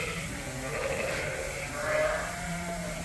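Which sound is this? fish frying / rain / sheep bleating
sheep bleating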